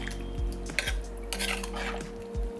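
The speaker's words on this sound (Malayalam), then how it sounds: "അപ്പം ഒന്ന് ഇളക്കി കൊടുക്കുക" Pot of Kerala vadakkoottucurry with coconut milk being stirred, a spoon scraping and clinking against the metal pot in a few soft, irregular strokes over a low background hum.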